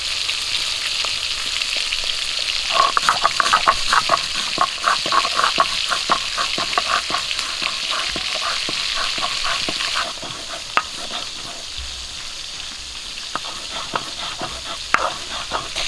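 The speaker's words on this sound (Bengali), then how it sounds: "মাছগুলো এক পিট করে ভাজা হয়ে গেছে উল্টে দেবো" Mustard-rubbed fish heads from a giant carp fry in oil with a loud, continuous sizzle and hiss, punctuated by frequent crackling pops and occasional clinks, close up with no talk.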